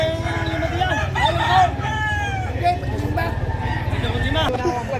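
Several roosters crow repeatedly at a chicken market in Padre Garcia, Batangas, overlapping one another with loud, drawn-out calls amid a busy background of clucking and people talking.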